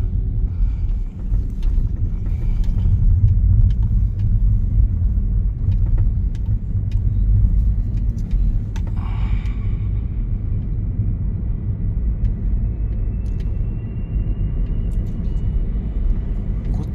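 A car drives through the Thamel and New Road streets of Kathmandu on Christmas Eve night. From inside the cabin, a steady low engine and road rumble continues throughout, with faint passing noises now and then.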